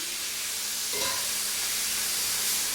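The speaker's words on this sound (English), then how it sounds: "I'm sauteing the vegetables along with the meat." Vegetables and beef for carne guisada sauté in olive oil in a pan, making a continuous bright sizzle and hiss with a brief stir partway through.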